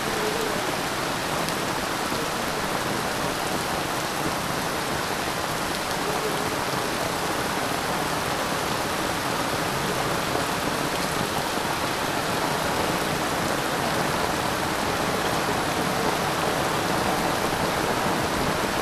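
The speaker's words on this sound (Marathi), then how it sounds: "पाऊस बघा जोरदार पडतोय" Heavy monsoon rain pours steadily over a Konkan village near Rajapur, a dense, even hiss of drops on surfaces with runoff water, close and unbroken throughout with no voices.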